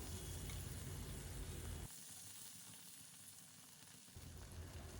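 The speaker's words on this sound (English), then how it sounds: "in the center of the tawa goes a small cube of butter. We'll let the butter melt down." A small cube of butter melting on a hot tawa gives a dense, close, steady sizzle that drops quieter midway and then swells again.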